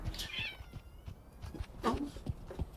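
Pet cats meow indoors, two or three short, faint-to-moderate meows with soft rustling between them, heard at close range with no talk over them.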